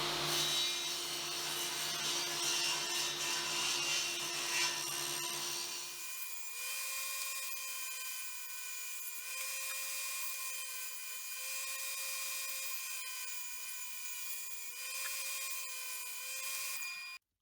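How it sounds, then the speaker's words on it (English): A power tool cuts through scrap plywood to make a guide, a harsh buzzing whine that drops to a steadier, higher-pitched run after six seconds, continuous and close with no talk. "I'm going to cut out a piece of scrap ply just to use as a guide."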